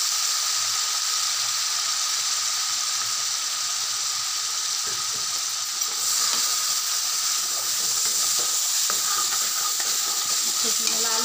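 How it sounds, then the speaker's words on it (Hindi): Onions and a mixed spice masala cooking in a pan while stuffed brinjal is made, giving a loud, steady hiss and sizzle throughout with occasional soft stirring scrapes. "अब हम इसमें मसाला डालेंगे, तो मसाला मिला कर तैयार कर लिया है, इसे अच्छे से पकाएंगे।"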